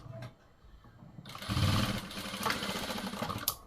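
A sewing machine stitches a slipped pleat on a puff sleeve, a fast mechanical whirring burst of a couple of seconds after a brief quiet start, close and fairly loud.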